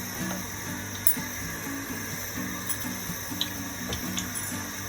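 Dahi vada batter dropped by spoon into hot oil, a steady close sizzle and bubbling fry with faint intermittent clinks throughout.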